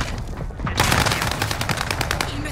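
Rapid automatic gunfire in a Modern Warfare battle royale match on Rebirth Island, loud close bursts of rattling shots that grow denser after a brief quieter opening.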